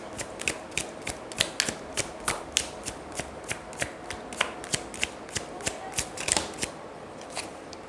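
Tarot cards being shuffled for a one-card reading make a steady run of crisp, close riffling clicks and snaps, evenly spaced throughout, with no talking.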